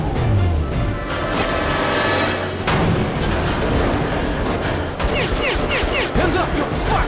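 Gunfire in the video game Metro Last Light Redux, with dense, continuous shots and heavy rumbling blasts forming a loud battle din while voices shout over it.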